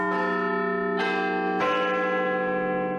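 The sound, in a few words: Big Ben bell in London striking twelve chimes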